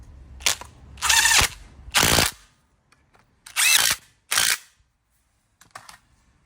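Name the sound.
ratchet tightening bolts during Toyota Yaris clutch change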